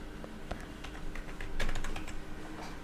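A computer keyboard clicks close by in a quick, irregular run of keystrokes as a folder name is typed, with slightly denser tapping toward the middle.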